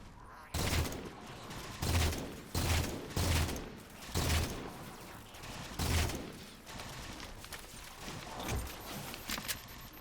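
Bursts of gunfire from the Halo 4 Spartan Ops mode, several loud, broadband volleys spaced irregularly across the first six seconds, then thinner scattered shots with faint voices in the mix.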